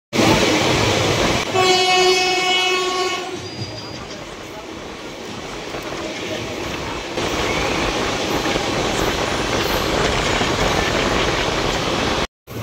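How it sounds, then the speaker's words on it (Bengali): The Maldah Town–Howrah Intercity Express pulls into Katwa Junction with a loud, sustained rolling rumble of wheels on rails and a clear horn blast near the start, close and continuous until an abrupt end. "এই ট্রেন কাটোয়া জংশনে ঢুকে যায়"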